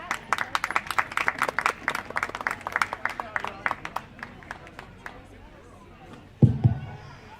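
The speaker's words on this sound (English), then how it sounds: "give them a big round of applause" Applause at a county livestock show after a market goat class, a burst of crisp, fairly close clapping that fades out over several seconds before a voice starts speaking.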